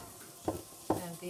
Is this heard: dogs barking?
no